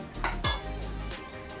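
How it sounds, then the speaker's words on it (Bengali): Chicken being stir-fried in a pan for a home meal: a quick metallic scrape and clank of a utensil against the pan, then a soft background hiss, close and fairly quiet, with no talking. "ওই যে চিকেনটা এখন কষাচ্ছি"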